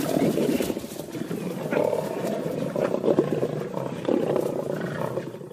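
Young lions call and roar in the wild, giving rough, throaty growling roars that come in repeated, overlapping bursts at moderate distance over several seconds.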